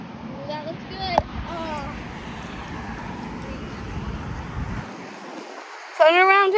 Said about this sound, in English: Nice fountain waterfall